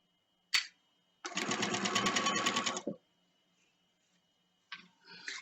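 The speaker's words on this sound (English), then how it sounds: "It just looks like I am sewing an easy straight edge." A sewing machine stitches a double rolled hem on a circle skirt, a short close burst of fast rattling stitching after a single click, then quiet and a brief restart at the end.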